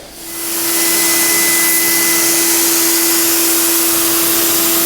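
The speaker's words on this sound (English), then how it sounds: "So let's do a test spray," A paint sprayer running a test spray during a DIY room renovation, ahead of painting a ceiling: a loud, steady hiss with a constant motor whine that starts within the first half second and continues without a break to the end.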